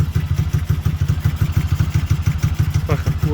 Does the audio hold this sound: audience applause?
no